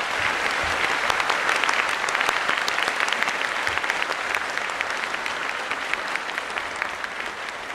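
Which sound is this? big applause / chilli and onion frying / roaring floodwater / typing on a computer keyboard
big applause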